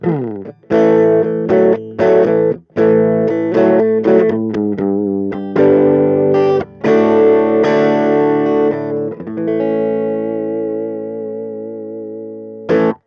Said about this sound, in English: All right, our next setting is the crunch setting.